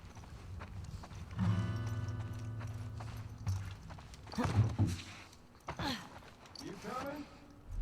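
Horse hooves clip-clop in a The Last of Us Part 2 gameplay scene, a few uneven steps mixed with game sound effects while someone talks over them.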